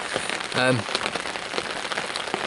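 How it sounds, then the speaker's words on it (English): Heavy rain pours down outdoors at a spring carp fishing match, a dense continuous hiss of drops striking surfaces close by, with a brief voice-like tone cutting through early on. "it is now chucking it down with rain like the weatherman said it would"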